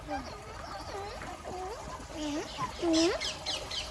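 Turkeys on a farm making soft gobbling, warbling calls in quick repeated bursts, fairly near, with faint trickling water and murmuring voices in the background.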